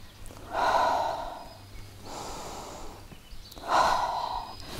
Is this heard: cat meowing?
no